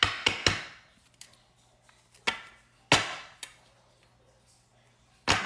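A deck of tarot cards being shuffled by hand, giving a few sharp, close slaps and riffles spaced irregularly between quiet pauses, with no talking.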